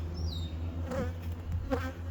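A steady, dense insect buzz of many bees humming together, close and continuous, with slight swells in intensity.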